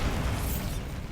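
Bombarda spell blast in Hogwarts Legacy: a single broad, rumbling burst of magical explosion with a heavy low-end boom that fades out across about a second.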